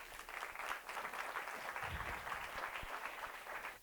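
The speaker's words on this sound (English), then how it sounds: "A big round of applause." An audience at a clean energy panel event gives a sustained round of applause, many hands clapping at a steady, even level throughout.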